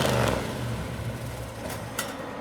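Deep rumbling idle of a supercharged Chevy 502 7.5-litre V8 with equal-length headers and truck-style flapper pipes, steady low throb with a slight blip near the end.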